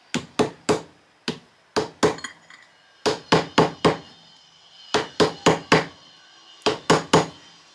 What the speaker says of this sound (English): my rawhide hammer.